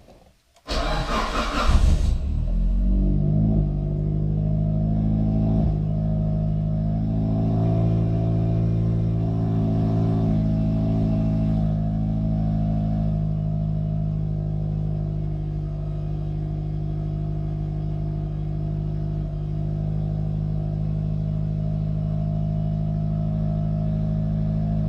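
A car engine on a stock-block 6266 build with a newly loaded tune cranks and fires on a cold start, flares briefly, then settles into a steady, rumbling idle for the rest of the stretch.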